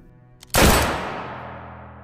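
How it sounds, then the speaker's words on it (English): A single loud, close gunshot cracks sharply, preceded by a faint click, then rings out into a long fading decay. "In the chaos that followed, a gunshot rang out,"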